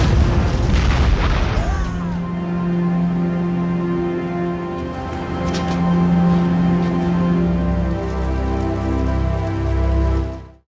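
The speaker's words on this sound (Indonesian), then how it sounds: "Pesawat-pesawat pengebom mulai meledak di udara." Bomber planes explode in the air with deep booming blasts at the start, followed by a sustained low drone and distant rolling explosions with a crackling, rain-like patter.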